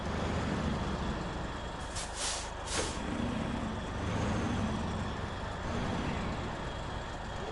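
Truck engine drone with a pair of short air-brake hisses in the snowy off-road game SnowRunner, a steady low rumble underneath and the quick bursts of air near the middle, fairly quiet overall.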